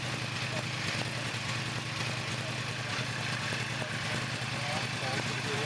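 A Yamaha R1 sport bike roars steadily on a dealership dyno, its engine holding a dense, loud, continuous drone throughout the run with no break in the noise.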